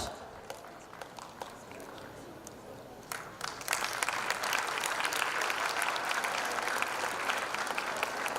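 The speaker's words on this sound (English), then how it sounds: "She truly deserves a thunderous round of applause." An audience at a school annual prize day ceremony in Jeddah bursts into loud, sustained applause for an award winner, starting softer and then swelling into a dense, steady clapping that continues to the end.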